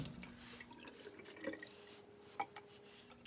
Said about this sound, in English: I'm rinsing out my sponge as I go.